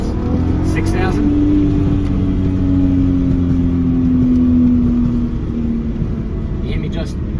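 A tuned VW R36 with a crackle map pulls hard through first and second gear to about 6,000 rpm, a loud close engine drone heard from inside the car with a rising tone.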